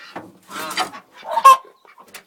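Hens clucking inside a hen house near the nest boxes, several short, close, irregular bursts of clucks and squawks with quiet gaps between them.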